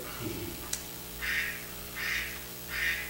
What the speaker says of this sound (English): Hello, you got a duck?